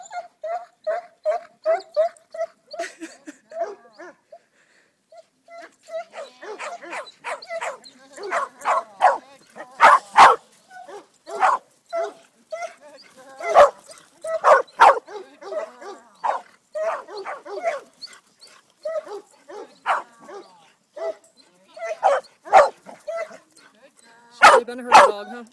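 A ten-and-a-half-year-old Greater Swiss Mountain Dog barks and yips while herding for the first time, with repeated sharp barks and whimpers in irregular bursts, some close and loud, amid outdoor background noise.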